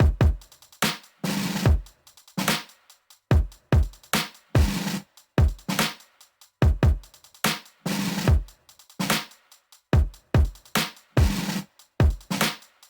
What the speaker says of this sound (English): I have this loop here from the folder Rise, and it's basically some orchestral snares